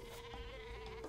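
A cartoonish sheep bleat from the Super Sheep weapon in the Worms video game, a single short wavering baa, clear and alone.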